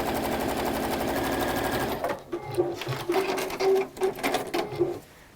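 Sewing machine stitching fabric from the blunt end, a fast steady needle rattle for about two seconds before slowing into uneven short bursts and clicks.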